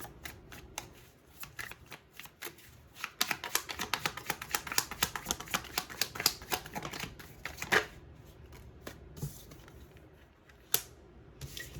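Tarot cards are shuffled close up in a long run of quick, crisp riffling slaps, rapid and uneven, with short pauses and a few sharper snaps near the end.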